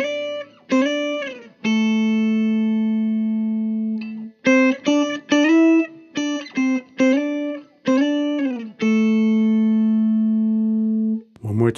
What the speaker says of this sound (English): For the intro, he plays this octave pattern.